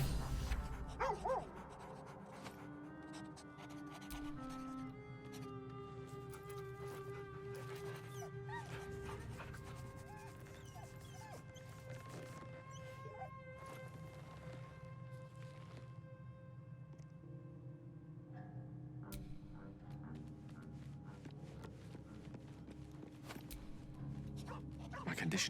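A dog in Baldur's Gate 3 barks and whimpers in short yips over a constant bed of tonal game music, with voices talking across it.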